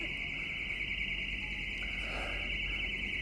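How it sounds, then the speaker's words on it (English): A steady, continuous electronic alarm tone rings in an indoor setting, loud and unbroken throughout, with faint background murmur beneath it. "apologies for the alarms"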